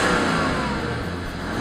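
A BMW 640d diesel convertible engine revs steadily for a moment, a loud, close, mid-pitched drone that rises slightly without any voices over it.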